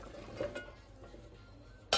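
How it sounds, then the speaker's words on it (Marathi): A pot of cut jackfruit pieces being stirred together with chilli spice mix over a switched-off gas stove, with soft scraping and a few light utensil clinks, then a sharper metallic clatter at the end. "आणि हे जे आहेत आपण प्रॉपर असे मिक्स करून घेऊयात."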